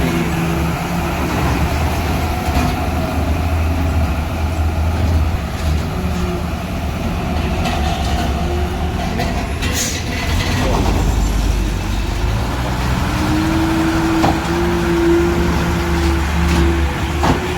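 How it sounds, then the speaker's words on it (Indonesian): Trucks and buses roll onto a ferry in a loading convoy, with continuous low engine rumble, idling and shifting drone from heavy vehicles nearby and a rising engine tone late on. "Banyak truk ini."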